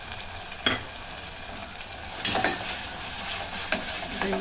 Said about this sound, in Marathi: चांगलं दोन मिनटं परतून घेतो मसाला परतून घेतला